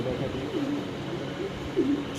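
Jacobin pigeons at a pigeon farm give a few low, soft coos over a constant background hum.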